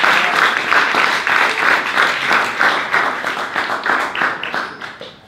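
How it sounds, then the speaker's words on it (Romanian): An audience at a live talk event applauds a speaker, loud rhythmic group clapping that holds steady and then tapers off toward the end. "Doamnelor și domnilor, dragi aseriști, să aplaudăm pe Andreea"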